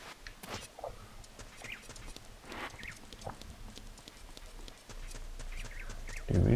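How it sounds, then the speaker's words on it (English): Epona, the horse in the Zelda Ocarina of Time video game, gallops in quick, irregular hoofbeats, moderately loud, with a louder burst of game sound near the end and no speech. "Slow down. You are too fast, horse."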